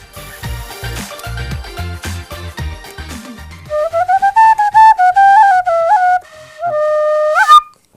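A handmade wooden folk pipe (dudka), drilled and lathe-turned with a whistle mouthpiece and finger holes, plays a short tune in a small garage workshop: a few quick low notes first, then clear sustained whistling tones stepping up and down, close and fairly loud.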